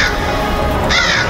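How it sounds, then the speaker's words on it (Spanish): A black crow cawing as a sound effect, two harsh rasping caws close by, loud over a low rumbling backdrop. "se trataba de un cuervo negro, que lo miraba con la cabeza inclinada hacia un lado"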